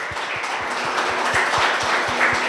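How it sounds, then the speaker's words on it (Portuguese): A church congregation applauds loudly during a family worship service: dense, sustained clapping fills the room, with steady rhythmic low thumps pulsing underneath throughout. "Aplauda o Senhor bem forte."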